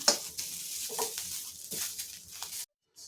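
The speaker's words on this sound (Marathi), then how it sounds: "सर्व मसाले छान भाजले गेले" Spices and tomato roast in a hot pan for amti masala, sizzling and crackling with a few stirring scrapes, close and steady, then cut off abruptly near the end.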